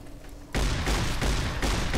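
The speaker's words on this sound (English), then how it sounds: "Let's see what this dragon breath shotgun shells do" A shotgun loaded with dragon's breath shells fires in Fallout New Vegas: a loud, sudden blast followed by a sustained roaring, crackling rush of fire with a few further bursts, close and dense, with no voices.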